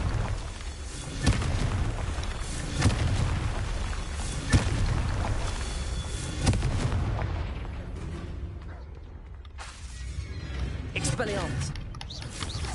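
Confringo blasting spell explosions in Hogwarts Legacy, several sharp booming bursts spaced a second or two apart amid loud rumbling combat noise, with voices speaking over the action before it quiets toward the end.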